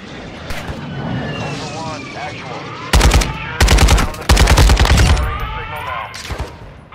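A precision airstrike lands in a shooter game, with aircraft noise followed by heavy rapid bursts of fire in the middle of the stretch. Players keep chatting over the steady game ambience.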